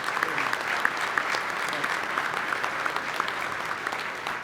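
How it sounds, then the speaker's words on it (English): Steady audience applause fills a hall at a Kentucky Farm Bureau gathering, many hands clapping in a dense, even wash that holds for several seconds with no voices over it. "I want to give them another round of applause"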